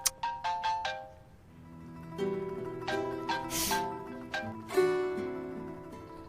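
A mobile phone left behind by a girl rings with a bright melodic ringtone, a few quick chimes and then a longer tune, clear and alone with no talk.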